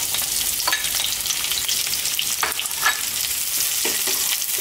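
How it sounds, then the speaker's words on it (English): Onion dropped into very hot oil in a pan at maximum heat, sizzling loudly and steadily while a utensil scrapes and stirs it in repeated strokes, with no talking. "in goes our onion"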